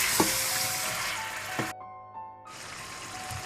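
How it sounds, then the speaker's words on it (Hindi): Ginger garlic paste fries in a hot pan with a loud, dense, continuous sizzle, interrupted briefly by a short silent gap before the hiss resumes, with a few soft stirring knocks. "फिर आप साथ ही अदरक लहसुन का पेस्ट डाल दें या पिसा हुआ अदरक लहसुन। इसको थोड़ा सा भून लें आप"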